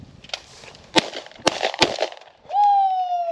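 Several sharp shotgun blasts crack out during a Minnesota dove hunt, fired in a quick irregular burst at flushing doves, loud and close, followed by a steady whistle-like tone.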